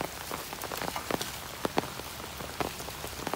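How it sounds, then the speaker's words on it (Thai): Rain falls steadily onto a surface, a soft, dense patter broken by occasional sharper drops, with no voices. "ฝนตกมา"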